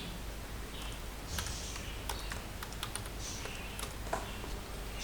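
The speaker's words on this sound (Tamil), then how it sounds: "பைத்தான் ஸ்கிரிப்ட் ஏதாவது டைப் பண்ணிப்போம்." Someone types a Python script on a computer keyboard with quick, irregular clicks and clacks from nearby keys, steady room hiss underneath and no one talking.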